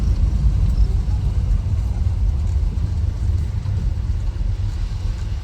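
1969 Plymouth Road Runner with a 383 V8 rumbles steadily while driving, a deep, continuous engine drone heard from close inside or near the car, with no talk.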